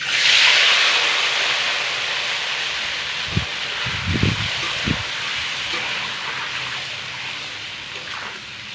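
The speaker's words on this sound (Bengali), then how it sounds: "এবার এই তেলের মধ্যেই কতগুলো ডিম আমি ভেজে নেব।" Eggs frying in hot oil seasoned with salt and turmeric, a loud steady sizzling hiss that runs throughout, broken by a few soft low thumps near the middle.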